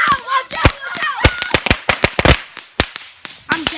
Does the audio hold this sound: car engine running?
no